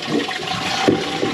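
Water from a faulty kitchen mixer tap valve that sticks open after the button is pressed, rushing and flushing steadily like a toilet flush, close and continuous with a brief surge partway through.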